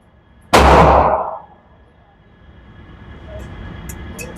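A single loud pistol shot at an outdoor shooting range, a sharp close blast with a short rumbling tail, followed by quiet background and a few faint clicks.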